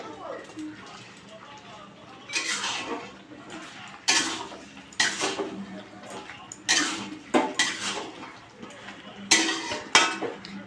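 Fried chicken pieces go into a cooking pot in a home kitchen, with repeated sharp metallic clanks and scraping in irregular bursts over a low background, while someone talks.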